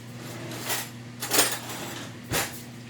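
A spoon fetched from a kitchen drawer during bread baking, with three separate close metallic clinks and rattles of cutlery over a low steady hum.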